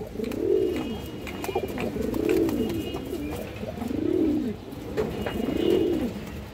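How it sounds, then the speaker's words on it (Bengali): Four rhythmic, rounded coos from a full silver pigeon repeat at steady intervals, close and clear, with a faint rustling background and no talking. "নটটা কিন্তু পুরো ফুল সিলভার কবুতর দর্শক"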